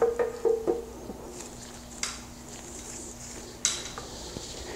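A metal transmission oil pan lined with a bead of RTV is handled and set onto a Chrysler/Volkswagen 62TE transmission, producing a few light metallic clinks and taps against a quiet background.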